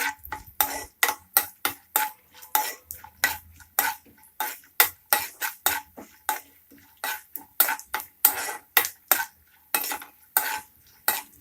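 Cashews and raisins frying in a pan for dry coconut ladoo, with a spoon stirring and scraping in a steady run of sharp, close clinks and scrapes.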